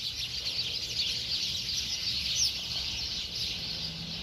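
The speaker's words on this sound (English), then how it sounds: "That's a lot of birds." A dense chorus of many birds fills the air with a constant, high-pitched chattering and calling, fairly distant and steady throughout, with no talking over it.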